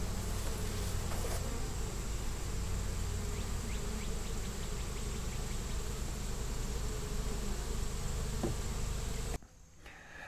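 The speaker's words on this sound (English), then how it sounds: "I'm going to put this lid on real loosely so those bees don't escape" Honeybees taken from a hive buzz inside a loosely lidded container, making a faint, continuous droning hum with small flickers of wingbeat, before a sudden drop near the end.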